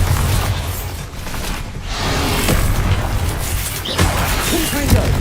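A Bombarda blasting spell in Hogwarts Legacy explodes with a deep, loud boom and rumbling crash, layered over continuous game sound effects and background music.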